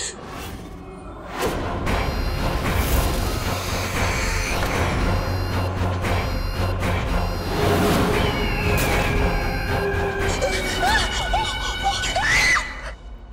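A loud, sustained scream in a vampire horror drama, sounding close and dominant over a dense, noisy background with thuds and whooshes, no voices talking.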